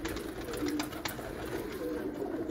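Rooftop pigeons keep up a low, throaty cooing, a near and steady murmur with a few faint clicks and no speech.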